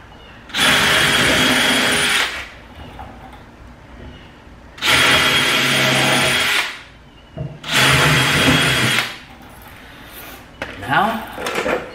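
A power drill bores holes in wood while building a cornhole board, three loud whirring bursts of about two seconds each separated by short pauses, with faint handling noise afterward.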